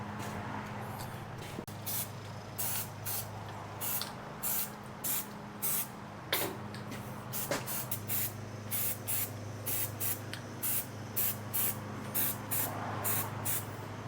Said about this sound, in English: I'm just kind of spreading that oil around so we get a good even coat of that oil all over everything inside the cylinders.